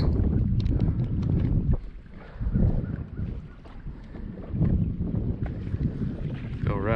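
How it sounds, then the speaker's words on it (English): Wind gusting over a summer lake while fishing for crappie from a boat, a loud broadband rush buffeting the microphone in uneven surges, with faint water movement beneath. "this wind's kind of blowing"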